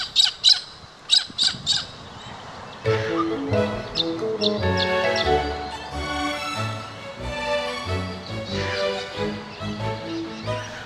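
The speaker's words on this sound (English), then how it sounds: "Little corellas gather in large flocks, foraging about quite happily in noisy groups" Harsh, screeching squawks from a noisy flock of little corellas at an urban lake in Western Australia, starting as a few separate calls and then overlapping into a dense chorus.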